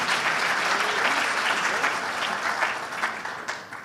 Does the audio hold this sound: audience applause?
yes